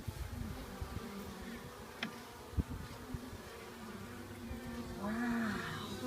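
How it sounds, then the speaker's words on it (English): Honeybees hum softly around an opened top-bar beehive during an inspection, a faint, continuous buzz with a few small knocks and a brief murmur of voice near the end. "We're gonna smush that bee."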